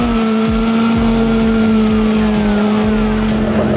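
A race car's engine drones steadily during full wheel spin as the car is dragged backwards, with loud tire noise and a regular thumping pulse running through the whole stretch.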